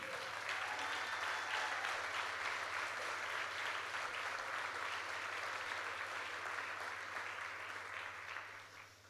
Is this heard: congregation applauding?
yes